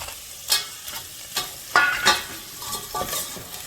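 Crab pieces stirred in a pan while cooking crab rasam soup, with intermittent scraping strokes and light sizzling, close and fairly quiet, no talking.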